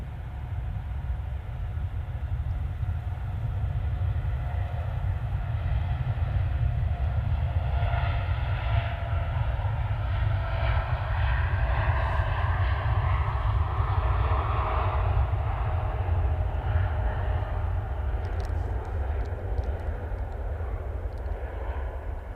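Jet2's 37-year-old Boeing 757 rolls down the far end of the airfield after its final arrival, a loud continuous engine roar with shifting whine tones, steady throughout with no voices.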